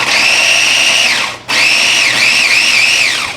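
Electric chopper mincing 12 garlic cloves, a loud, close, high-pitched motor whine that runs about a second, winds down and stops, then starts again and wavers as the blades work through the cloves.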